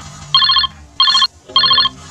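An outgoing phone call rings back in three evenly spaced electronic trills, loud and close, each lasting about a third of a second, with quiet gaps between them.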